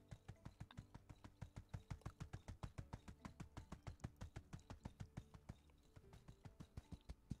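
Rapid, regular hoofbeats of a galloping horse in the video game My Time at Sandrock thud close by in an even rhythm, with light background ambience and no voices.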